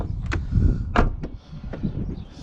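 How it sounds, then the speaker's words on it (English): The door of a Volvo V70 car is pushed shut. Several close thuds and clicks come over a low rumble with no voices, the loudest knock arriving about a second in. "You just shut the door and that's you're done."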